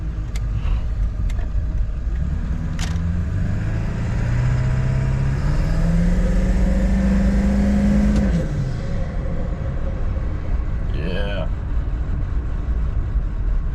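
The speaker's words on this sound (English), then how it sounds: "that intake's definitely making some noise" A car with a newly installed intake revs hard and near, its engine note climbing steadily for several seconds before dropping off, over constant road and cabin rumble.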